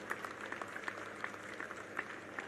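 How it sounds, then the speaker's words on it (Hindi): Gathering at a national unity padyatra event applauding the padyatris: scattered, moderately faint hand claps with distinct individual claps standing out over a low hum, brief and uneven. "ये सब पदयात्री के लिए हम सब लोग तालियों से अभिवादन करिए।"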